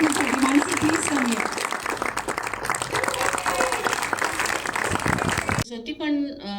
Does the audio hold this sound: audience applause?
yes